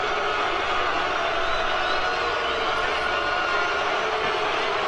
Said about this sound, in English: I'm having a hard time right now even being able to talk over the boos that these men are receiving.